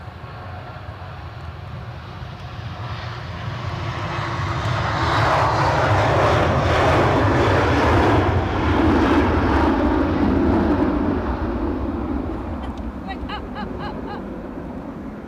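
A Boeing 777 comes in to land at Edinburgh Airport in the evening, its jet engine roar swelling as it passes close, then easing off, with a voice speaking faintly underneath.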